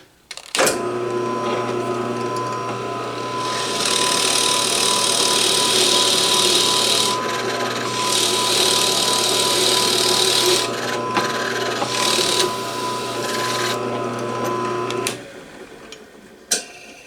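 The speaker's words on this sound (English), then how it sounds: "So I'm going to use this Forstner bit" A drill with a 1/2 inch Forstner bit runs steadily for about fifteen seconds with a loud, constant whine and hum, its pitch shifting slightly partway through, then stops.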